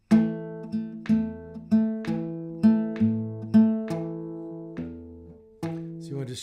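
Guitar playing a vamp in a swinging shuffle rhythm, repeated plucked bass-and-chord notes in an even lilting pulse that ring and decay between strokes, close and clean with no talking.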